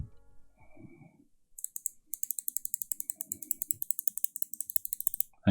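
Sharp, quick clicks from an Omron switch in a Logitech G Pro X Superlight mouse, pressed repeatedly in a steady run of close, crisp taps with faint handling noise before.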